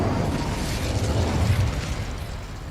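Incendio fire spell cast in a goblin mine in Hogwarts Legacy, a dense roaring, crackling blast that stays loud and steady for a few seconds before easing slightly, with no talking.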